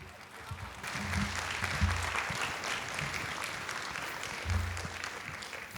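Educators at an August 2021 education conference give a round of applause, a steady mid-level crowd clapping with a couple of brief low thumps underneath and no clear talking.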